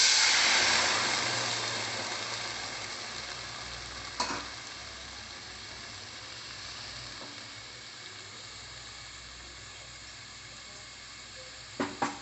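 Cooked lentils tipped into a hot pan tempered with curry leaves for a Mangalore cucumber curry, then stirred: a loud initial sizzle fading to a steady hiss, with a couple of sharp clinks of a spoon against the pan.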